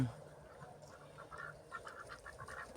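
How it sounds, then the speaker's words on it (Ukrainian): Domestic ducks, with blue drakes among the flock, quack softly in a farmyard as a few short calls come through a steady low background. "Такі качечки ось."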